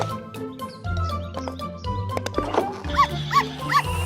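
A small cartoon puppy yips and barks a few times amid cartoonish music and sound effects in a children's animation, the barks short and high, layered over a busy backdrop.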